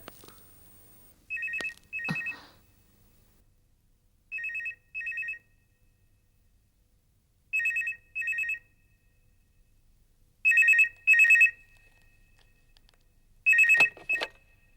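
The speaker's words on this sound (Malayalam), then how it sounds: "ഫോൺ അടിക്കുന്നു" A telephone bell rings in repeated double bursts, five rings spaced a few seconds apart, loud and close with near silence between them.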